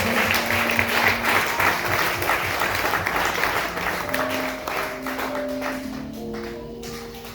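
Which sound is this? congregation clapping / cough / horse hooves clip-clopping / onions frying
congregation clapping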